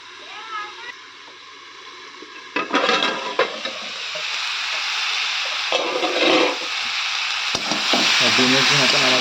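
Bottle gourd curry fries in a pan with steady sizzling and occasional stirring scrapes, close and moderately loud, while a voice talks in the background.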